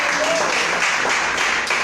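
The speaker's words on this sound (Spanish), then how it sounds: "Denle un mejor aplauso al Señor." Congregation applause during a church service, a burst of many hands clapping together, loud and close, with voices faintly mixed in.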